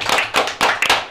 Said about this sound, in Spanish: Vamos a recibirlo con un fuerte aplauso al Charlie Prada.